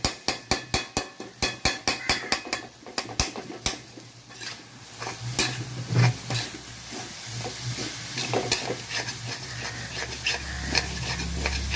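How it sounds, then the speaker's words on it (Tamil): A spatula rapidly chops and stirs kilangan fish puttu in a frying pan, a fast run of sharp metallic taps against the pan giving way to scraping, stirring and a soft sizzle, close up with no talking. "கொத்தி விட்டு கிண்டிக்கிட்டே இருக்கணும்."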